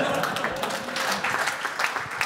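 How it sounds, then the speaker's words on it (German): Audience applause at a German finance and fintech panel event, a continuous wash of clapping with some voices mixed in, moderately loud and fairly short. "Wo ist der Applaus?"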